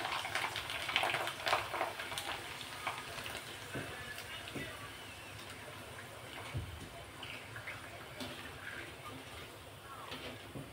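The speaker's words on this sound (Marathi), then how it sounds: "एक सोबत असे छान तळून घ्यायचे आहे." Poha papad frying in hot oil, a soft, continuous sizzle and bubbling held low and faint throughout, with a person talking over it.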